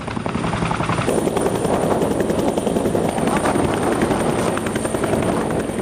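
A military helicopter carries commandos in at an army security drill staged for the ICC Under-19 World Cup, its rotor chopping loud and close in a steady rapid pulse over a continuous engine whine throughout.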